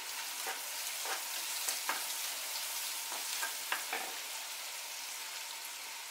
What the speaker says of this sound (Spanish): Ya tenemos fritas las verduritas.